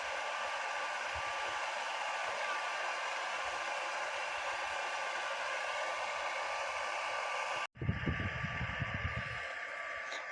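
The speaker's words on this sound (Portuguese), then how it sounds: "Liguei a bomba, acabei de botar o fio da mangueira." An electric pump draws liquid compost through a hose, giving a steady, even whirring hum for several seconds before it cuts off into a short burst of close rustling and handling noise.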